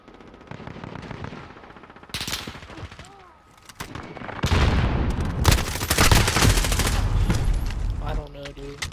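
Automatic gunfire from a Call of Duty: Modern Warfare Headquarters match, rapid rattling bursts that start sparse and grow into loud, near-continuous heavy fire through the second half, with faint voice chatter underneath.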